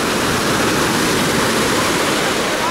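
Sea waves wash onto a busy beach at Alanya in Turkey, a steady, loud, broadband rush of surf that fills the whole moment without any voices.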